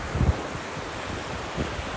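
Ocean waves wash along a beach in a low, continuous roar, with a couple of brief swells and gusty wind buffeting the microphone, no voices.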